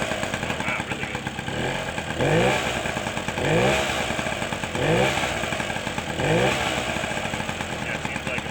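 A rebuilt Benelli Buzzer minibike engine runs on its own with a buzzy, rattling idle that swells in regular surges about every second and a half, close and steady, while a person talks over it.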